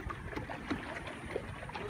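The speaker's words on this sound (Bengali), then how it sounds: "এই চাচার বোটে আমরা উঠলাম।" Small boat on Ramsagar lake in Dinajpur, a faint close wash of water against the hull with gentle lapping and light wind under a soft continuous hiss.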